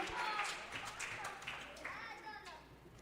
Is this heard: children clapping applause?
yes